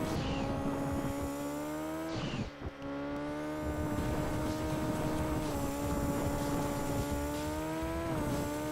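Car engine in the video game Gran Turismo 2, a loud buzzing synthesized drone holding steady revs with a brief throttle lift and dip, then climbing again, alone without talk.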